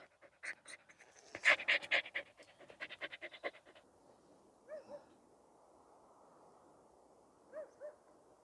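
Fast, close panting from a dog out on an evening walk in a mushroom forest, a rhythmic burst of breaths for several seconds, then quiet with a few faint calls in the distance.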